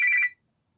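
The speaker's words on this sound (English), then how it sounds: "I forgot to mute the old phone." An old telephone gives one brief electronic ring burst, loud and close, that stops abruptly and leaves silence.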